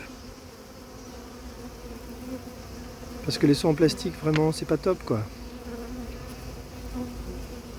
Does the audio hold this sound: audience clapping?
no